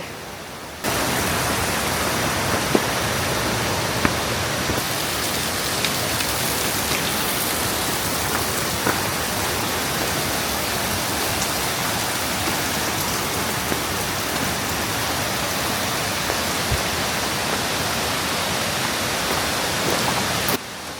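A small waterfall in Bali gives a steady, dense wash of falling water close by, a constant broadband roar with no break and no voices.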